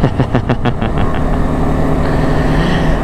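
A Yamaha R15M motorcycle being ridden, its engine droning loud and steady up close with a brief rhythmic pulsing at the start before settling into a continuous hum.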